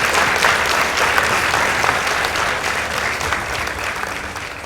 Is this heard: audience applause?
yes